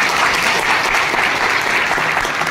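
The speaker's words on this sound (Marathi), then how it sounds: "त्यांच्या सगळ्यांसाठी एकदा जोरदार टाळ्या." At the inauguration of an old-age home and recreation centre in Kolhapur, a crowd gives a brief burst of loud, even applause, dense and continuous throughout.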